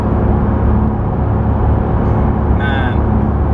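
A Porsche 991 GT3 driving, its engine and exhaust giving a steady low drone beneath a loud, continuous cabin and road rumble, with a brief higher tone near the end.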